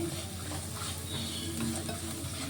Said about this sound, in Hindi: अब साथ ही साथ हम प्याज को भी थोड़ा चला देंगे ताकि ये जले ना